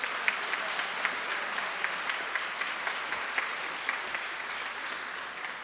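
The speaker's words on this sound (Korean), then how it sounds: "힘찬 박수 부탁드립니다" Steady applause from the audience at a 2017 World Peace Day ceremony, following a congratulatory performance by music faculty and performers; dense, even clapping fills the whole stretch at moderate level without speech.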